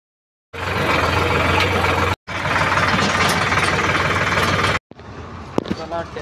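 A tractor idles at the weighbridge of a busy onion market, its engine rumbling close and steady before cutting out briefly, then resuming more faintly beneath other noise.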